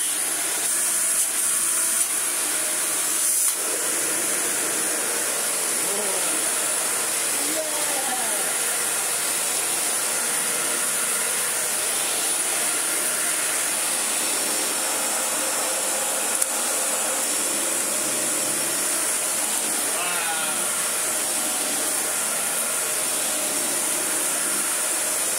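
A refurbished Dyson DC40 Mk2 upright vacuum cleaner with new brush rolls runs steadily throughout, giving a loud continuous whine and hiss with no speech over it.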